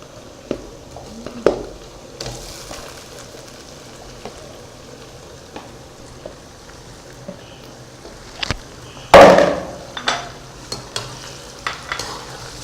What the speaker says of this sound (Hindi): इसमें डालेंगे चिकन।